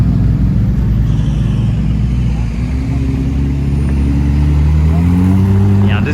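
A Ferrari 296 GTB revs its engine on Place Vendôme in Paris, a loud, rising and falling roar with shifting pitch over several seconds, while people talk nearby.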